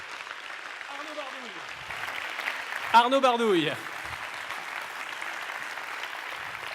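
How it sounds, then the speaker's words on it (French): Audience applause for a contestant at a science-thesis competition final, a soft, steady patter of clapping in the background beneath a voice that speaks over it. "vous pouvez continuer à l'applaudir un tout petit peu si ça vous donne envie"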